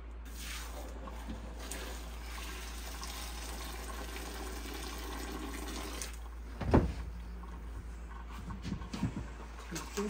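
Water in a kitchen sink that is slow to drain, a steady low running and gurgling wash with a sudden splashy gush partway through, heard under a faint voice.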